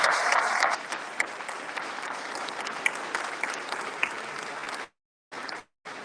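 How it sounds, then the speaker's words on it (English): Audience at the South Florida Athletic Awards ceremony claps steadily for coaches and players, a dense wash of applause that cuts off near the end with a couple of brief bursts after. "how about giving these gentlemen and all the coaches a well-deserved round of applause"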